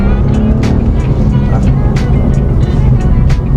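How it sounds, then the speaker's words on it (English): A 2022 Renault Clio with a 1-litre three-cylinder engine pulls away from a dead stop on a bumpy road, a loud, steady in-cabin engine drone with scattered knocks and thumps from the road surface. "Let's see what the acceleration's like. I'm at a dead stop"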